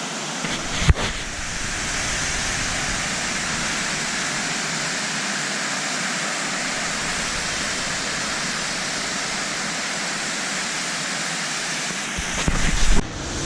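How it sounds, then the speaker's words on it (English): A waterfall along a fishing spot roars as a steady, even wash of rushing water, loud and close, with a brief knock near the start and some handling noise at the end. "here we are coming up to this sweet waterfall. You can probably hear it already."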